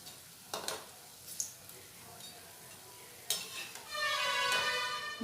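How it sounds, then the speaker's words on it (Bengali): Moong dal jalebi fries in oil over medium heat, quietly. A few sharp clinks and scrapes of a utensil against the pan come first, then a soft, steady sizzle rises near the end. "হালকা লাল করে জিলিপিগুলো ভেজে নেব।"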